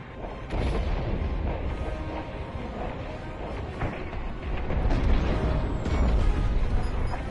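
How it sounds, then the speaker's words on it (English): A frigate explodes in the space combat game Star Wars Squadrons, a continuous roaring rumble of explosions and crashing debris that swells louder toward the end. "The frigate is about to explode."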